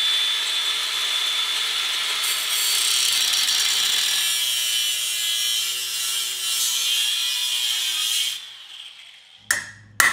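A power cutting tool grinds loudly and continuously along a metal seam on a 420cc ATV frame for about eight seconds, then winds down, followed by a couple of sharp knocks.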